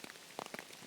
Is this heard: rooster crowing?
no